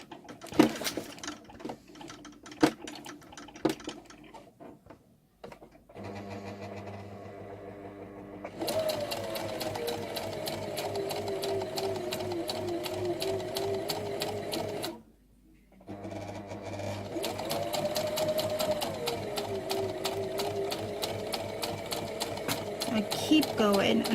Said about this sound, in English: Now I'm not using the jagged stitch for any particular reason